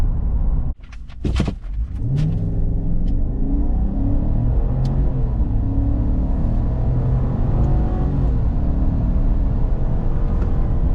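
A 2026 Chevrolet Silverado with a V8 launches from idle in a 0-60 run, an engine note that climbs through rising gear pulls and shifts, loud and continuous from inside the cab.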